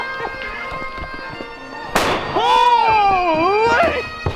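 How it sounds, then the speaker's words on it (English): A single cannon shot booms out near the middle during a winter sailing outing in British Columbia, a sharp loud blast followed by excited voices talking over its fading rumble. "We're here for the cannon!"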